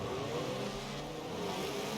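A race car engine in a Forza video game race at Daytona holds a steady, droning mid-pitched note at constant loudness, with no voices over it.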